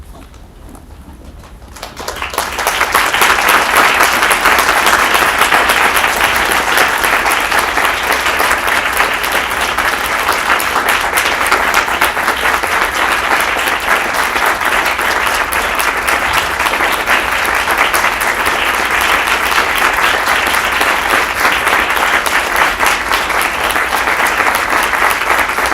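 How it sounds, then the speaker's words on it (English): A large audience at a speech contest breaks into sustained applause as the judges depart, beginning suddenly and holding as a loud, dense, even roar of clapping. "let's show our appreciation with a standing up and a big round of applause."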